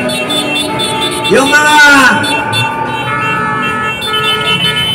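An ambulance siren wails with rising and falling sweeps near the middle, loud and fairly close, heard among steady background noise and engine rumble.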